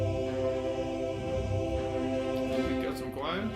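Orchestral arpeggiator pattern from The Orchestra by Sonuscore plugin, dense sustained strings and brass with a rhythmic pulsing figure, moderately loud and continuous, with rising sweeping notes near the end.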